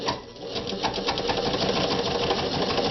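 A vintage Kingston Precision Synchro-Matic sewing machine stitching at a long stitch length, a steady, close mechanical whir with rapid rhythmic needle clatter running continuously throughout.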